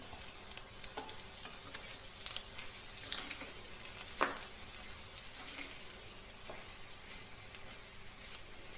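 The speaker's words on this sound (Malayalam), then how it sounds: "അപ്പോൾ ഇതിനകത്ത് നെയ്യും ഈ പഞ്ചസാരയും ഈ ആപ്പിളിനകത്തുനിന്ന് വരുന്ന നീരും എല്ലാം കൂടെ ഒന്ന് വഴന്ന് വരികയാണ്" Apples cooking in ghee with sugar give a continuous soft sizzle, broken by spatula scrapes and clicks at irregular intervals, close by and with no voices.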